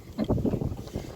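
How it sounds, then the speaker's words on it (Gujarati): Strong wind buffeting a third-floor balcony, heavy low rumbling gusts pounding the microphone in uneven bursts, close and loud. "આમ તો તમને અવાજ આવતો હશે, એટલો પવન છે"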